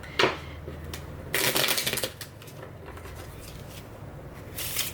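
A short sharp card snap, then a quick papery riffle of shuffling cards, followed by a quieter stretch of soft handling noise.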